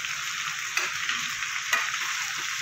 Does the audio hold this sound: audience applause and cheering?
no